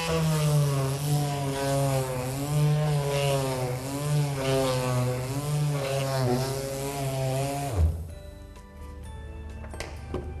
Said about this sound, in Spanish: Nos ponemos a lijar.